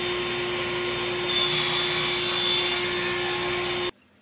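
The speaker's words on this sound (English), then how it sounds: "Now I'm just going to cut up all the pieces for the shelves. I'm using all 3/4 scrap plywood that I have laying around the shop." A power saw cuts scrap 3/4-inch plywood into shelf pieces in a workshop, giving a loud steady whine that rises in pitch partway through, then stops abruptly.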